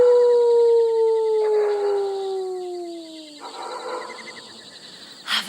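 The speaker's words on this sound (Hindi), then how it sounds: "दूर कहीं कुत्ते भौंक रहे हैं।" Distant dog howling on a still night: one long, wavering, falling howl that fades away, with a faint bark at the end. No voices are heard.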